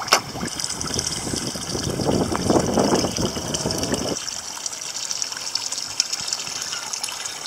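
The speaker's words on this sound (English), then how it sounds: "What we're doing here is transferring Harry, our koi fish patient, into an anesthetic bath." Water gushing and splashing as a koi fish with a broken mouth is moved into an anesthetic bath, a loud turbulent surge for about four seconds, then a quieter steady trickle and hum.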